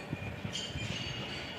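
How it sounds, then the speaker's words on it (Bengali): Two trains pass one after another, a steady rumble of wheels with faint rhythmic clatter and a high metallic squeal rising midway, at moderate distance with no voices. "এই দেখো দুটো ট্রেন আসছে একসঙ্গে পরপর।"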